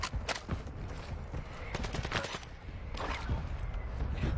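Rapid gunfire bursts in the video game Call of Duty Warzone, loud and dense with repeated volleys of shots that fill the whole stretch with little pause.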